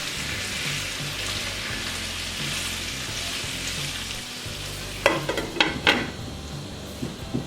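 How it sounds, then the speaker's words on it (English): Potatoes and carrots fry in a pan with a continuous close sizzle, then a few sharp scraping and stirring clatters as they are moved around. "And for the potatoes and carrots, you just want to move them around as well. You want that nice and fried."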